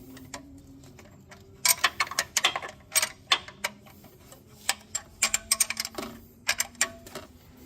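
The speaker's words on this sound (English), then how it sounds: "just going to grab a wrench. We're going to do these pinch bolts" Wrench clicking and ratcheting while tightening pinch bolts during a Mazda Miata 1999–2005 supercharger kit install, a series of sharp close metallic ticks in irregular bursts.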